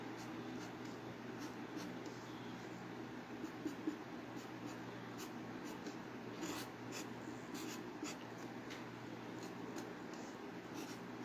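A colored pencil scratches and rubs across paper while drawing a cartoon yak, a faint, close, continuous scratching with brief stroke accents over a low background hum.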